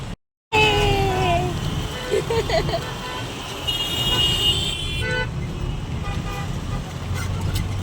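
Busy road traffic in a jam with repeated car horn toots, engines rumbling nearby and voices talking in the background.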